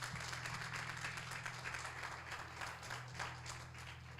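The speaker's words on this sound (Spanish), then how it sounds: "¿Cuánto le pueden dar un aplauso a Cristo?" A congregation claps in church during a sermon: dense, steady applause that sounds fairly distant and soft, with a low hum underneath, lasting about four seconds.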